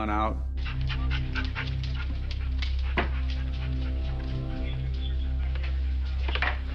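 A police dog pants rapidly and steadily at close range while searching a garage, with faint rustling, a few soft whimpers and a continuous low hum behind it.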